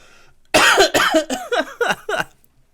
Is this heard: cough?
yes